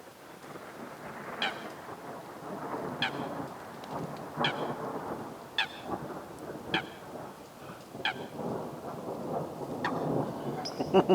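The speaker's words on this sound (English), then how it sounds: "I don't know about that storm moving away. It sounds like it's getting closer." A thunderstorm rumbles over a fishing lake at night, with repeated thunder cracks and rolls over a steady wash of rain, growing louder toward the end.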